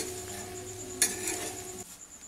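A spoon stirs oats in a pan over a low gas flame, giving faint scraping and a single sharp clink against the metal over a steady low background hum.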